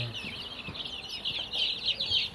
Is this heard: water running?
no